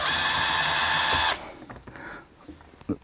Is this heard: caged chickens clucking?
no